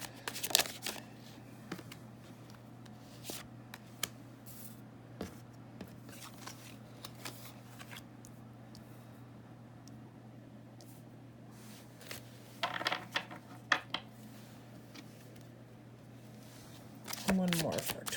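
Tarot cards shuffled and drawn, with soft riffling and slapping at the start, scattered quiet card taps through the middle and a brief shuffle near the end. A low steady hum runs underneath and there is some faint talk.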